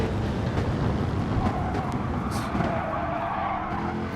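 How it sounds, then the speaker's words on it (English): Tyres on medium-compound rubber squealing and skidding through the Parabolica-style corner of a racing video game, a loud sustained screech layered over a roaring engine, near and continuous for a few seconds. "As you can hear through the parabolica there, the tyres protesting"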